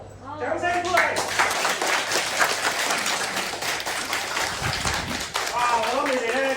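A martial arts class in a Yuen Long clinic applauding after Wing Chun stretching training, a small group clapping steadily and fairly close, with voices heard at the start and end.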